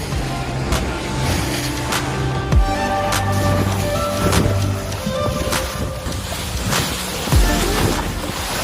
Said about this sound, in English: The sea is looking really quite rough for this tiny little boat.